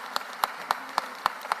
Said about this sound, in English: Give Director Williams a round of applause for that.